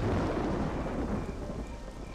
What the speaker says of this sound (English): That was like lightning stuff.